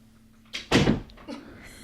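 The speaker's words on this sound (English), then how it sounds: "If you hear that door, that's my brother" A door opens and shuts at home, one solid thump followed by a softer knock, set against otherwise quiet room tone.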